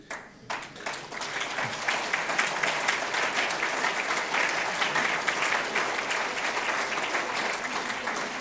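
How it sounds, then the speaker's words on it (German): An audience at an award ceremony breaks into applause, claps starting scattered then quickly swelling into a full, steady, even wash that holds at moderate loudness throughout, without any speech. "Applaus."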